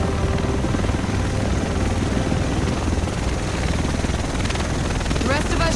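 A helicopter arrives in the video game The Division, its loud thudding rotor and engine roar filling the scene up close while characters talk over it.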